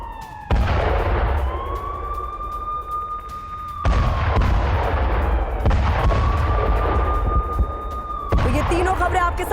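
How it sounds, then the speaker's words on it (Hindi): Russian howitzer artillery shelling in Ukraine war footage: repeated heavy booms at roughly three-second intervals over a continuous roar, with a rising and falling siren-like whine running through. "रूस ने होवित्जर तोपों से गोले बरसाए हैं"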